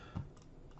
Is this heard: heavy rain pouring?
no